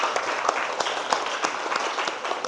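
A high-school class of eleventh-graders claps together in a biology lesson, with sharp hand strikes popping out at a fairly regular pace over a steady patter of applause, close and loud.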